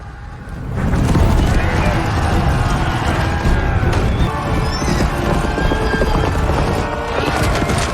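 Horses whinny amid a loud, continuous rumble of galloping hooves and clatter in a battle scene from The Rings of Power, with voices mixed in throughout.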